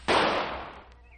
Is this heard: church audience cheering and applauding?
no